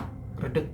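A voice imitates knocking on a house ceiling, giving a short vocal burst that mimics raps from above inside a home.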